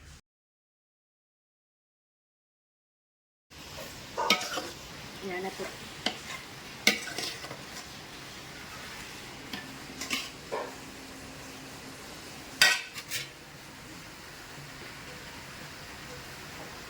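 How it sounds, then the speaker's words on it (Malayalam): Onions sauté in a pan and are stirred: after a few seconds of silence, a continuous close sizzle begins, with irregular scraping and knocking strokes of the spoon against the pan. "അങ്ങനെ നമ്മുടെ സവാള വഴറ്റിയെടുക്കുവാണ്"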